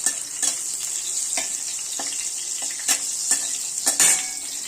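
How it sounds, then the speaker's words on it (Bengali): Hot oil in a wok sizzles steadily around a bay leaf and two dried red chillies, with soft scrapes of a spoon stirring at intervals. "এখন আমি কড়াইয়ে দিলাম সামান্য একটু তেল, আর এর মধ্যে দেব একটা তেজপাতা, দুটো শুকনো লঙ্কা দিয়ে ভালো করে এটা আমি গরম হতে দেবো।"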